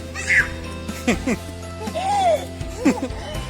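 A cat meows a few times in short, high calls, close by, mixed with children's and adults' voices and bits of play in a home setting.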